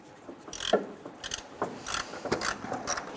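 Ratchet wrench working a 10mm water pump bolt loose on a 1997-2006 Jeep Wrangler, heard as a few short, irregular bursts of clicking close by with no talking.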